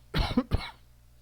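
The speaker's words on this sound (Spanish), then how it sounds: "Sigo un poco con tos, no se me quita esto." Two quick, close coughs in a row from one person with a lingering cough, followed by quiet.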